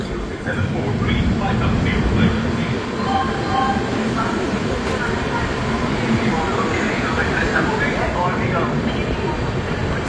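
The Puri Shatabdi Express pulls out of Jajpur Keonjhar Road with a steady loud rolling rumble and faint wheel squeals, heard from inside the train while people talk over it.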